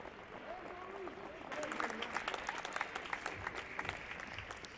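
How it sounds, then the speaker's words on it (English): Applause for a Greek athlete at a men's 10m air rifle standing SH1 para shooting event, starting as light scattered claps and swelling into a denser round of clapping from a modest audience after about a second and a half. "Please give a big round of applause to our Greek athlete, Sotirios Galagavros."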